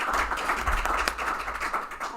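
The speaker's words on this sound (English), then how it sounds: "Give him a hand clap." An audience at a gaming convention claps for several seconds, a dense, even patter of hands with no voices over it.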